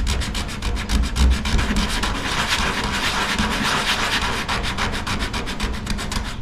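Primer being sanded by hand on a hail-damaged car body panel, a continuous rhythmic rasping with quick regular back-and-forth strokes, close and steady with no talking.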